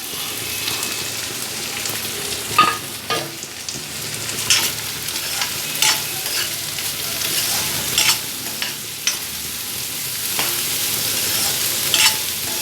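Steady sizzling of onions frying in a pan, with repeated scraping and stirring clicks of a utensil throughout, no talking.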